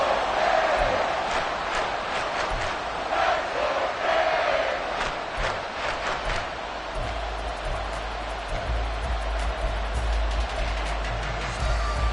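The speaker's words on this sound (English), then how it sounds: "this crowd is making an impact right now." A stadium crowd at a football game in a sports video game roars steadily and loudly for the whole stretch, a dense, unbroken wall of cheering with no pauses.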